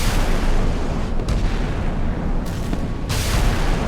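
Five-inch naval guns boom repeatedly as two frigates, a Dutch De Zeven Provinciën and an Australian Anzac, trade fire in the naval combat game Sea Power, with dense continuous rumble and several sharp bursts standing out.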